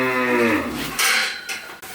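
Cattle at a farm, including Brahman and Pakistani breeds, give one long loud moo close by, followed by a couple of short scraping knocks.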